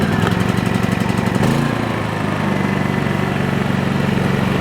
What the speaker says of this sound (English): So to start the generator, our choke is forward and our switch is on